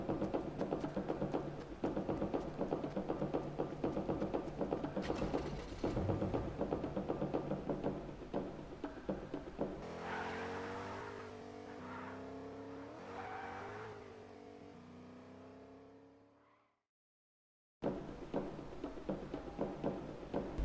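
A car engine rumbles and revs with tire noise, steady and close for several seconds, then an accelerating whine climbs and fades before a cut to silence and more engine noise.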